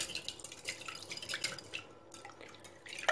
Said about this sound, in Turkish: Hepsini güzelce çırpıyorum.